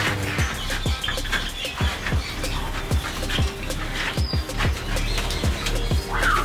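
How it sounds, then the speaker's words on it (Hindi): White Java finches and lovebirds chirp busily in an aviary, a dense mix of short tweets and calls repeating throughout, fairly close with a steady background. "और इसमें हैं हमारे पास वाइट जावा फिंचे, बहुत ज़बरदस्त माशाल्लाह ये सारी ब्रीडर है।"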